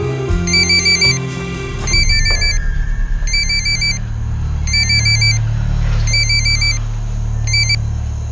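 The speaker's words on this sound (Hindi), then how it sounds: "रिंग जा रही है सर" A mobile phone rings with a repeating electronic ringtone in regular bursts over a low rumble of engine and traffic noise, loud and close, with no talking.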